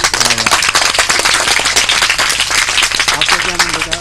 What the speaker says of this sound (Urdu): تالیاں مارو تالیاں